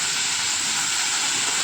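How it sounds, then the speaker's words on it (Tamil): Thuthuvalai leaves with cumin sautéing in a pan, a loud, close, unbroken hissing sizzle that holds steady throughout with no voices. "1 கப் தூதுவளை அந்த முள்ளெல்லாம் க்ளீனாக எடுத்துகிட்டு இப்போ நம்ம இதோட வதக்கிறோம்."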